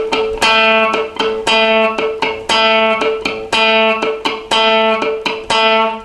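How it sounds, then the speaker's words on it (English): A guitar plays a riff at speed, notes picked with a plectrum in a down, down, up pattern, with dead-note clicks giving a bright, loud, rhythmic pulse up close and no talking. "use the plectrum to pluck down on the note, and then down, and then up on the second click"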